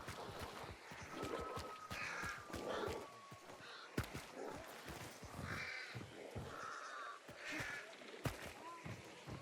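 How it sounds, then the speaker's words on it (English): Crows caw repeatedly in the Hunt: Showdown game world, several harsh calls scattered over a steady ambient bed, with occasional faint hoof-like clops and thumps in the background. "I want to leave those crows as well."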